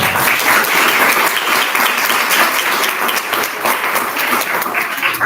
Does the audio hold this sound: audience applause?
yes